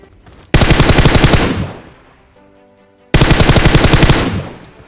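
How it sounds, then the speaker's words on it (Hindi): Automatic gunfire in the video game PUBG rattles out in two loud, rapid bursts, each fading out, separated by a quieter gap with faint tonal game sounds. "तभी मुझे गोली चलने की आवाज आती है"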